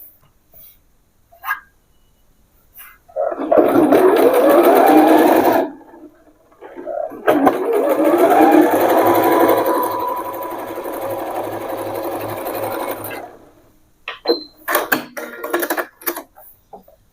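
A sewing machine stitches straight pants in two long, steady runs of close, loud whirring, separated by a short pause, followed by softer clicks and handling noises.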